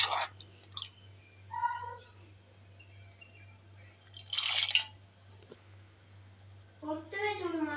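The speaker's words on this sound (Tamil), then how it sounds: "தண்ணி ஊற்றிக்கலாங்க." A short splash of water pours at close range into a pot of cooked lentils for sambar, amid scattered kitchen clinks and a person talking.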